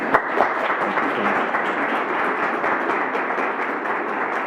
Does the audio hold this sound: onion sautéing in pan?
no